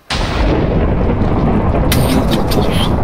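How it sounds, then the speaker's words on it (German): A loud, sustained crackling boom with heavy low rumble, like a thunderous strike in a game, holding steady for several seconds without speech. "What the shit is going on with his lightnings?"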